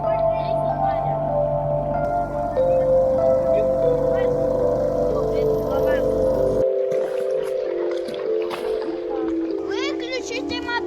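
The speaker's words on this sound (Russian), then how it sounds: "Выключите мотор! Мотор! Мотор! Вырубите!" A boat motor drones steadily with a low tonal hum on the Sinyaya river, then cuts out abruptly partway through; children's voices and splashing sit in the background.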